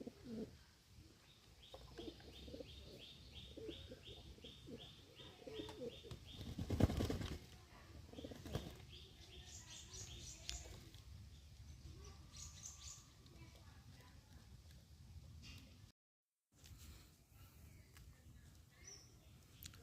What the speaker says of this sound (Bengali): আজকে আমার কবুতরের গোসলের প্রতিযোগিতা